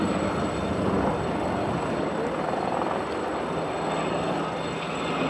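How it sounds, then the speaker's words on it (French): An NH90 military helicopter flies during an army aviation air-assault demonstration at the Le Luc 2014 airshow, giving a loud, steady rotor and turbine roar that stays constant throughout, with no voices. "Ce NH90 Skyron, hélicoptère de dernière génération"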